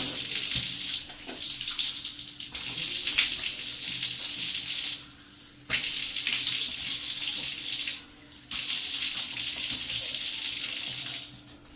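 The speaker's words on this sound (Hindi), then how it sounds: "नल पे आप वुजू करोगे पानी ज्यादा खर्च होगा" Water runs from a tap during wudu ablution, a steady hiss of flow splashing into a basin, broken by brief pauses as hands move under the stream.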